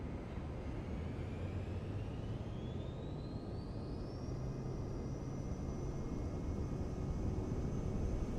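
Steady broadband jet engine roar with a slowly rising whine, from an aircraft spooling up in Microsoft Flight Simulator 2024, heard continuous and loud without talk.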